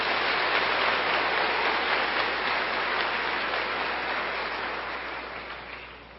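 A church congregation applauds after a sermon reading, a dense, even wash of clapping that holds steady and then gradually fades toward the end.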